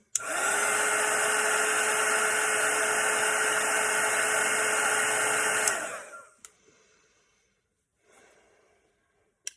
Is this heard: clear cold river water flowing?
no